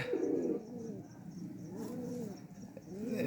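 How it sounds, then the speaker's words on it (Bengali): A Giribaz pigeon coos close by, soft throaty rising-and-falling calls repeating in a few phrases over light background noise. "নরের জোড়া দিয়েছি, গিরিবাজ কবুতর।"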